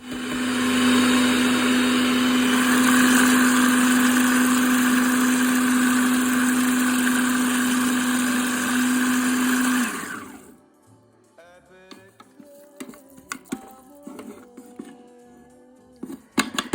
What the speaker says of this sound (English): And of course my blender.